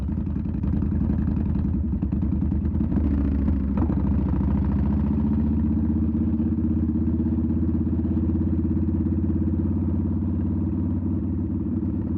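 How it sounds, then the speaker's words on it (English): A Yamaha Warrior 1700 motorcycle fitted with Cobra Long Shots exhaust pipes rumbles on a street between buildings, its deep loud exhaust tone steady and throbbing throughout, close by. "we can get some decent exhaust tones coming up here, you know, off the buildings"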